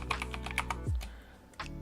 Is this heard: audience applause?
no